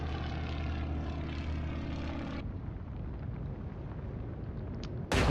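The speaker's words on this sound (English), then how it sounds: "Launch those planes." Propeller aircraft launch from a carrier in the Atlantic Fleet naval game, a loud steady engine drone that shifts to a rougher roar partway through, with a sudden bright burst at the very end.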